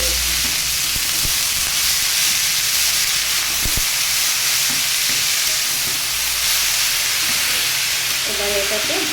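Chopped banana flower tipped into hot oil in a frying pan sets off a loud, dense sizzle and steamy hiss that holds steady throughout, with a few scraping stirs, close by and without speech.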